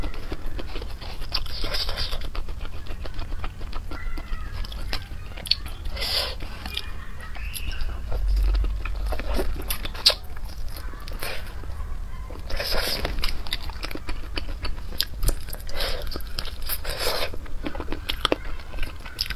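Chewing crunchy boneless chicken feet up close, repeated crisp crunches and bites at an uneven rhythm over a steady low background for about twenty seconds.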